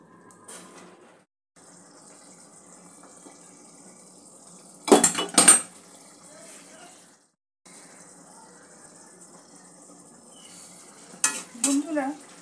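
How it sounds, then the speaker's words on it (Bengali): A utensil stirs papaya and potato pieces in a frying pan with soft sizzling throughout, broken by two bursts of louder scraping and clattering against the pan. "ভালো করে একটু নেড়ে দিয়ে ঢাকা দিয়ে আমি সবজিটা সেদ্ধ করে নেব"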